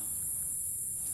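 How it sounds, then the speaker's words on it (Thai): A dense, steady high-pitched insect chorus drones without pause over faint low rumble, like crickets on a night. "เสียงพี่น้องที่ได้ยินนี่คือเสียงแมงไม่เด้อครับ"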